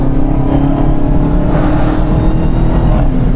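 A 717 hp Hellcat car's engine roars loud and steady at close range while driving, with a deep, continuous rumble throughout.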